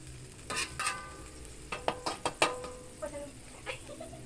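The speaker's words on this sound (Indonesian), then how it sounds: "Aduk-aduk hingga merata." A utensil scraping and clinking against a wok while cooking Aceh-style Indomie goreng, in a series of uneven strokes, over a faint background sizzle.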